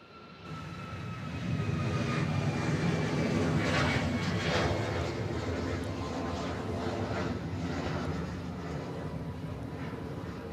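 An Airbus A380 takes off from Honolulu airport with a broad, heavy roar that builds over the first seconds and then stays loud and sustained at a moderate distance.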